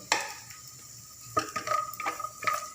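Cashews and almonds sautéing in hot ghee in a pan, with a quick sizzle and metal-on-pan stirring scrapes in short bursts, close and fairly quiet, no talking.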